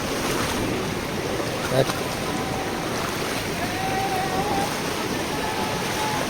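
Amboli waterfall near Belgaum in full flow, heard as a steady, broadband rushing roar of water mixed with gusty wind buffeting the microphone, continuous and close throughout.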